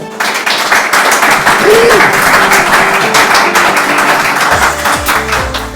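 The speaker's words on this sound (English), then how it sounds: "I think we should applaud to the panel" An audience at a careers panel event in a college venue claps loudly and continuously, a dense spatter of applause filling the room with no voices rising above it.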